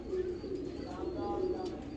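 A pet pigeon coos softly in short low repeated calls, close and fairly quiet, with faint chirps and a little background noise.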